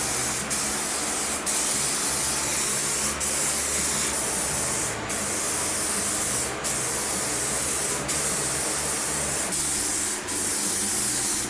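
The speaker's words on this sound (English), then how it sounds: "I'm spraying that base coat at least 1 inch or 2 from this tape line" Continuous hiss of a spray gun laying base coat on a Dodge Charger R/T body, close and steady, broken by brief pauses at regular intervals as the trigger is released between passes.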